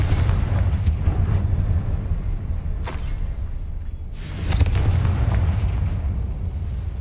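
In the video game Hogwarts Legacy, the Confringo fire spell sets off a deep, rumbling explosion with heavy low booms and several sharp bursts spread across the moment, loud and close.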